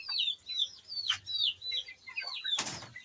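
Chickens cluck and chirp close by behind a house in light rain, a series of short repeated calls at an uneven rhythm, with a brief rustle or flap near the end.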